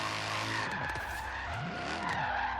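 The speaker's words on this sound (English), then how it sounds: "definitely tell that there's a big old V8 in this thing." An LS3 V8-swapped E36 BMW M3 in Forza Horizon 3 revs up and down in rising and falling sweeps, with tire squeal and skidding mixed in, at a fairly low, steady level.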